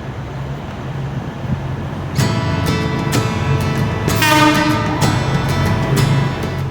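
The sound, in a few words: high-speed train arriving at station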